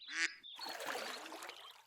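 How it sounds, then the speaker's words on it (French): A cartoon duck in a children's animated show gives one short nasal quack, followed by a steady fainter noisy background with no speech. "Un canard."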